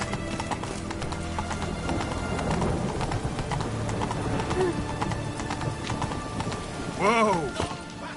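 Roach the horse clip-clops steadily on hooves in The Witcher 3, with a whinny rising near the end and game voices speaking over the busy scene.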